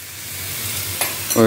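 Ivy gourd curry sautéing in a pan: a soft, low sizzle with a couple of brief stirring scrapes toward the end, close and quiet, with no voices.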